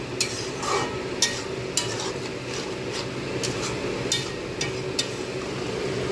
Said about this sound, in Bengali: সমস্ত কিছু ভালোভাবে মিশিয়ে দেবো।